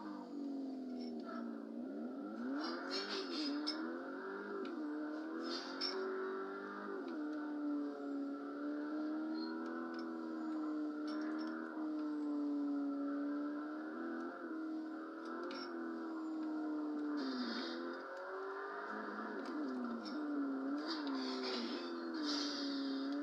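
Engine revving in a driving video game, a continuous nasal tone that climbs and dips in pitch as the throttle varies, steady and fairly quiet over about twenty seconds with occasional faint clicks.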